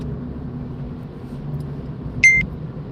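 A phone's short electronic warning beep about data usage sounds once, clear and close, over the low steady rumble of a car interior.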